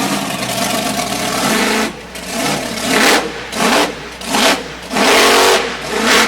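A monster truck engine roars at a Durham, Connecticut monster truck show, loud and close, revving in repeated surges with short dips between bursts and no talking over it.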